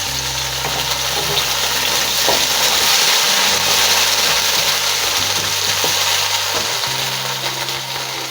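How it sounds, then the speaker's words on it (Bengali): Chopped tomato, onion and green chilli fry in a pan for Saffola masala oats, a steady loud sizzle with a constant hiss and faint stirring scrapes, alongside a low background tone. "এভাবে আমি কিছুক্ষণ ভেজে নিব।"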